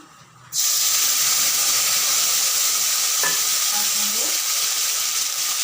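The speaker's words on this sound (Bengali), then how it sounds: "রেখেছিলাম সেই মশলাগুলো পেস্ট দিচ্ছি মশলাগুলো" Spice paste hits a hot pan for an aloo paneer curry and bursts into a loud, steady sizzle that carries on to the end, with a brief stir scraping through partway.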